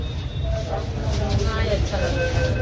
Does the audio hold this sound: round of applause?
no